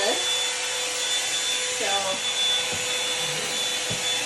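A hair dryer brush blows in a steady, close whoosh with a thin high whine riding over it. It keeps a constant level the whole time, and a voice is heard briefly.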